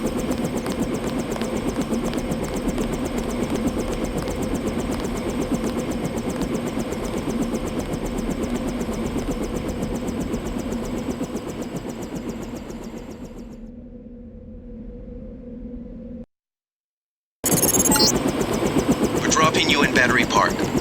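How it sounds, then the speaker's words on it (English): A helicopter engine in the video game Deus Ex gives a steady, loud rotor-and-turbine drone that fades near the end, drops out briefly, then returns abruptly. "You may use the helicopter, Mr. Dent."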